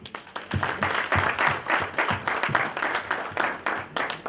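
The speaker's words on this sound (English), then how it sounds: "Another round of applause for Mukeri." Audience applause for a speaker at a winter school event, dense steady clapping from many hands throughout, with a faint voice briefly underneath.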